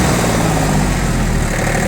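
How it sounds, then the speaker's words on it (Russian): A Yanmar F20D mini tractor engine runs at maximum revs, a steady, loud, even drone heard up close with no voices. "На работе трактора, опять же, я думаю, максимальные обороты."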